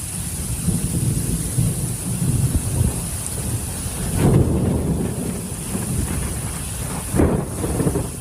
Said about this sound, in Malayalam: ഇടിയോടുകൂടിയ കനത്ത മഴയാണ് സൗദിയുടെ മലയോര മേഖലകളിൽ ലഭിച്ചത്